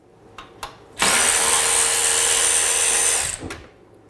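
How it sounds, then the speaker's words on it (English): A few brief mechanical clicks, then a power drill whirs at a steady high pitch for about two seconds before spinning down, while installing a horn on a Can-Am Spyder RT motorcycle. "So Steve's having fun with the new drill."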